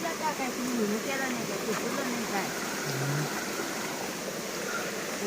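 Heavy water flows steadily through a channel in a turmeric field, a continuous rushing wash with voices talking over it.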